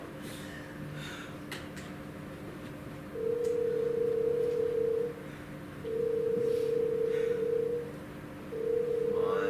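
A phone call's ringback tone sounds three times in steady on-off pulses, each about two seconds long, fairly faint, with a person briefly muttering between them.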